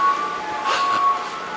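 Ice cream truck on a city street in Jackson Heights, Queens, its steady tinny chime tone playing through traffic and street noise, with a brief louder swell midway.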